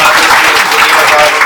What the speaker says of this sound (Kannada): ಒಂದು ತಂಡಕ್ಕೆ ಚಪ್ಪಾಳೆ